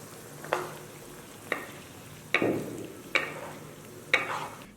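A utensil scrapes and stirs through small river shrimp and blanched razor clam meat in a wok, five distinct scraping strokes over a soft sizzle, close and alone.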